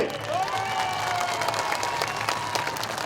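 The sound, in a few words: crowd applauding at election rally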